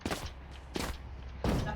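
Gunfire in Valorant as Jett on the Icebox map: three sharp, loud shot bursts spaced roughly evenly apart, each with a brief ringing tail, with no talk over them.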